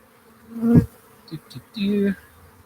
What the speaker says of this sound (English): Reaching into thousands of bees, trying to get a box without squishing anyone.